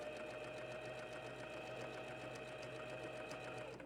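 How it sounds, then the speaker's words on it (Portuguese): A sewing machine runs backward in a steady, rapid, even stitching rhythm to backstitch at the end of a seam, faint and continuous throughout. "E faço um retrocesso, que é costurar para trás."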